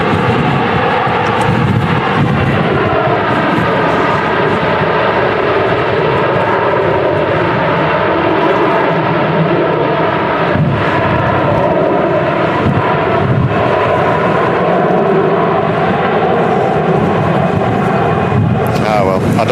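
A Finnair Embraer jet lands at Manchester Airport in strong storm crosswinds, its engines roaring loudly and steadily, mixed with wind buffeting the microphone, while a person talks over the noise.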